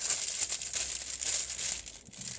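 Continuous crinkling of plastic packaging, close and steady, with bright rustling texture throughout and no voices.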